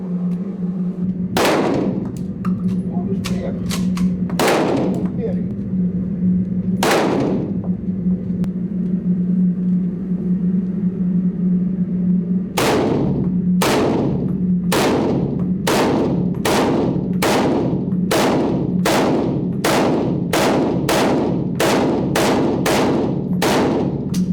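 Small-calibre gunshots from tiny rounds, fired as a few spaced sharp cracks and then a rapid run of about a dozen evenly timed shots, loud and close, over a steady low hum with no voices.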